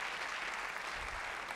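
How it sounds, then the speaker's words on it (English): A canned big-applause sound effect from a Zoom Jeopardy game plays as a soft, even wash of clapping, brief and faint, with no talk over it. "Big applause,"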